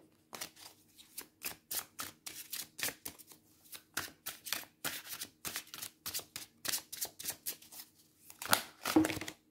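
A deck of tarot cards shuffled by hand, giving a rapid series of close, crisp riffling bursts in an irregular rhythm, heard alone and fairly quiet.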